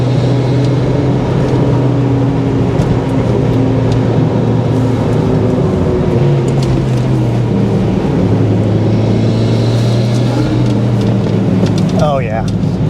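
Turbocharged Flyin Miata driving hard through canyon corners, a steady loud engine drone with shifting pitch as it climbs and eases through the bends, sustained close-up with no pauses, a brief whistly chirp near the end.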